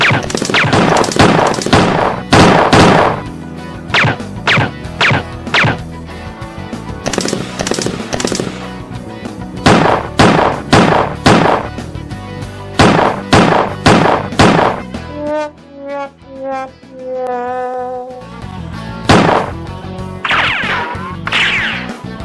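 Rapid bursts of gunfire sound effects in a Lego police stop-motion film, loud and close, with sharp repeated shots and short gaps, then a tonal musical passage near the end before more shots.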